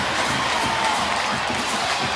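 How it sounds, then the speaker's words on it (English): Stadium crowd at a Colorado State vs San Diego State college football game at Snapdragon Stadium, cheering in a steady, loud, distant roar of many voices with scattered whoops, continuous throughout. "You can hear the crowd in the background."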